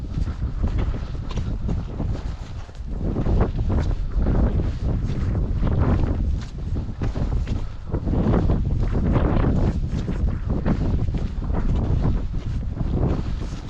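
Strong wind buffets an outdoor microphone on a damp, wet day, roaring steadily for the whole stretch with gusty swells and no voices.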